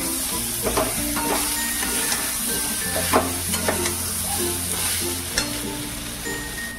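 Jackfruit curry with ghee and garam masala being stirred in a hot pan, a continuous sizzle punctuated by repeated spatula scrapes and clinks against the metal.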